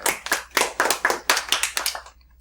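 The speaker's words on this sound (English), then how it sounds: "Clapping is so soft today." Audience clapping for a Cookie Monster introduction, a soft patter of claps in uneven bursts that stop abruptly near the end, no voices over it.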